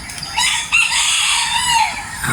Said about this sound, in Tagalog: Iba't ibang tunog. Klase ng tilaok ng manok pala.